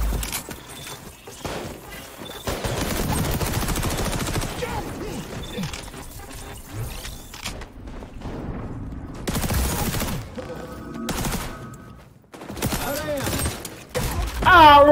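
Rapid bursts of gunfire from a video game shooter crackle loud and close, overlapping in dense volleys with brief gaps and sharp clatters, while voices come through at times.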